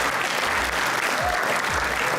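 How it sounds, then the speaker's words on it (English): Conference audience applauding steadily throughout, a dense wash of clapping from a large crowd indoors, continuous and fairly loud with no talk over it. "can we have a round of applause for yourselves?"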